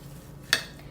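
Burger mixture being mixed with a spoon in a bowl: two short, sharp scraping clinks about half a second apart, close and clear over a quiet background.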